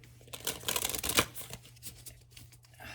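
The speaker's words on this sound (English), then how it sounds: "I shuffled it in as I just want to kind of see, and I want to see where it stops." Oracle cards from a Wild Mystic deck being shuffled by hand, a quiet papery riffle and slide with a few sharper flicks, close and alone.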